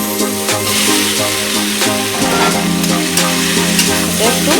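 Papaya and pumpkin pieces hit hot spiced oil in a pan, giving a loud, steady sizzle with scraping stirs and clinks of a spoon over a low hum.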